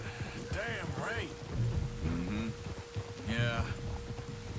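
Steady rain hisses in a Red Dead Redemption 2 storm, with a low rumble of thunder underneath, while characters talk over it at close range.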